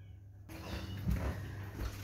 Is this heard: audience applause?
no